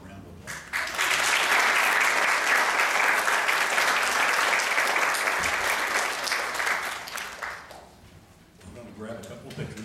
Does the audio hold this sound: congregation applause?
yes